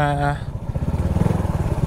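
A motorcycle climbs a hill road near Buntay Hills in Santa Magdalena, Sorsogon, its engine pulsing loud and close in rapid, even beats after a brief higher whine.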